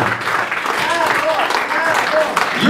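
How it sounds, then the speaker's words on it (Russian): Sustained applause fills a talk evening's hall, steady and fairly close, with voices calling out over the clapping and a few louder bursts near the end. "все остальные могут в это время аплодировать, жутко завидовать и аплодировать"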